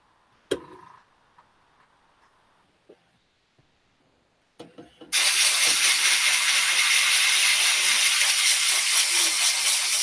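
Black paint is sprayed from an airbrush or spray gun. A few soft clicks and knocks come first, then a loud, steady hiss starts abruptly halfway through and continues to the end.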